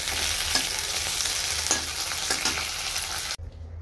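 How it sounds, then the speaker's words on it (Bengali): Two pieces of fish fry in a pan with a steady, close sizzle and a few faint utensil clicks, then the sound cuts off abruptly near the end. "মাছ দুটো ভাজা হচ্ছে।"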